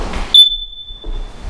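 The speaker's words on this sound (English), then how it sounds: "Smoke detector battery needs to be replaced," A single short, sharp high chirp from a smoke detector with a low battery sounds once inside a vacant apartment, ringing briefly before fading, with faint room noise around it.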